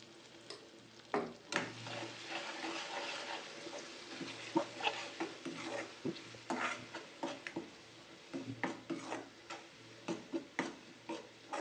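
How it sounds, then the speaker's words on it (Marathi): Masala paste frying in oil for chicken sukka, a soft low sizzle broken by frequent sharp clicks and taps of a spoon against the pan, fairly quiet and close, with no talking. "मस्त तेलामध्ये भाजून घेऊन या मसाला."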